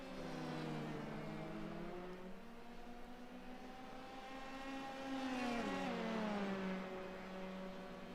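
A Formula 3 race car in a sim-racing game approaches pit road at the German Grand Prix, its engine whining in steady tonal harmonics that dip with a downshift as it slows, faint and distant.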